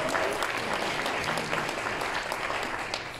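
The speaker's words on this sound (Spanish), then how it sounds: "Un aplauso para ambos, por favor." A room full of people applauding steadily at an awards ceremony, a dense wash of clapping that holds strong and begins to taper at the end.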